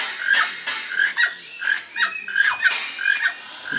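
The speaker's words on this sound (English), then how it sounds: "Little toucans out here." Swainson's toucans at a parrot park in Pigeon Forge, Tennessee, give a run of loud, close, harsh squawking calls in quick repeated bursts, with no talking over them.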